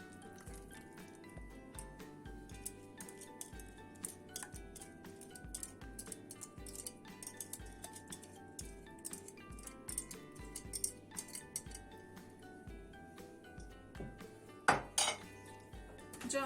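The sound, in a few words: whisked yogurt, flour and egg sauce added to soup pot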